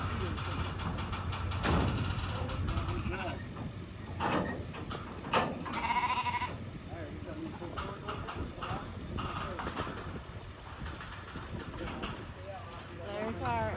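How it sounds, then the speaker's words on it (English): Royal White sheep bleat intermittently at a farm alongside a llama, the calls mid-distance and partly buried under steady outdoor noise, footsteps and people talking. "There's our sheep and llama, royal whites"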